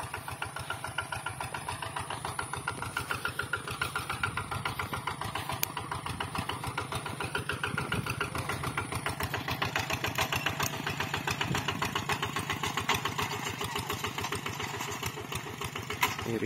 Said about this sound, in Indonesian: pakai mesin traktor, mini traktor.